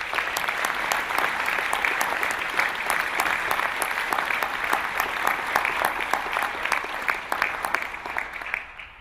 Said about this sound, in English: So maybe a short hand of applause for the staff.